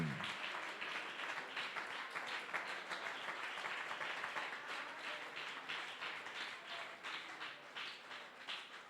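A church congregation applauding, a continuous distant patter of many hands clapping that holds steady and fairly faint throughout, with no clear voices standing out.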